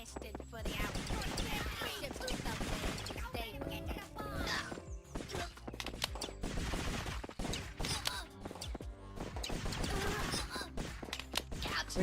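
Dense gunfire in an indie run-and-gun video game, a nonstop barrage of rapid shots and impacts layered over busy game sounds and music, with talking mixed in.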